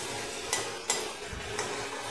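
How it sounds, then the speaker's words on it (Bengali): Cooked jute leaves are spread out in a pan, giving soft scraping and light clinks of a utensil against the pan over a faint background hiss; no one speaks. "জলটা যাতে শুকিয়ে যায় ওই জন্য শাকগুলোকে হালকা করে ছড়িয়ে দিচ্ছি যাতে জলটা টেনে যায়"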